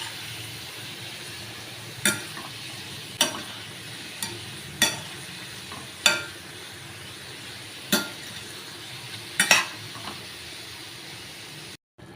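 A spoon stirs pepper chicken masala in a pan after ground spice powder goes in, with sharp intermittent scrapes and clinks against the pan over a low, steady sizzle.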